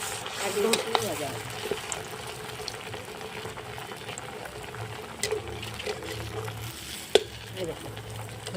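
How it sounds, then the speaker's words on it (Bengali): Palm sandesh sweets fry in hot oil, giving a continuous close bubbling sizzle with scattered pops and a sharp click or clatter near the end, no voices. "তেলটা গরম হয়ে গেছে, এবার আমি সন্দেশটা ভেজে নিচ্ছি"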